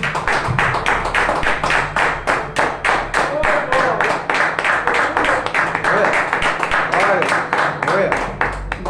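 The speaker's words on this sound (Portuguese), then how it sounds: "Essas palavras merecem uma salva de palmas para Jesus." A church congregation clapping in a steady, rhythmic beat, loud and close, with sharp regular hand strikes throughout and voices audible underneath.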